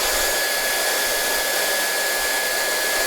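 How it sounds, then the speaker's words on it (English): A hair dryer blows steadily at full power while hair is blow dried for volume, a loud, constant airy whoosh with a thin high whine running throughout and no talking. "So what you're actually going to do is blow dry the hair out."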